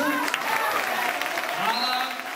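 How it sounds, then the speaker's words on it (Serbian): Outdoor crowd at a Sport for All and Peace Run event in Belgrade, Sremčica, gives a burst of lively clapping that lasts the whole moment, dense and close, with a voice over it near the end. "može jedan aplauz za našeg Nešu?"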